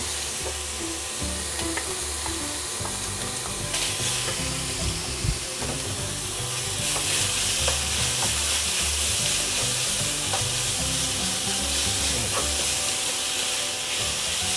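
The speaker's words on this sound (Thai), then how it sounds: "ตอนนี้หมูสามชั้นเราก็ได้ที่แล้วนะครับ ใส่หมูสับลงไปรวนได้เลย" Pork belly with minced pork stir-fried in a hot pan, loud continuous sizzling hiss with rhythmic scraping and tossing, surging louder midway as more meat goes in, close and unbroken, no talking.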